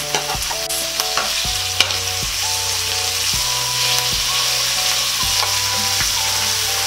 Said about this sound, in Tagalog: hihintayin lang po natin na medyo bumango yung ating sibuyas at ilalagay na po natin ang ating kamatis